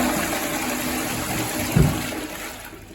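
A toilet flushes in a small motel ensuite, a continuous hiss and rush of water with a brief gurgling thump partway through before it starts to fade.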